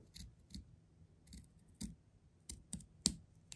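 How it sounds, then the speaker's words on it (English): Scissors snipping through quilt binding fabric, a series of about eight short, crisp cuts in an uneven rhythm, close and fairly quiet with no talk. "Let me go ahead and cut right here."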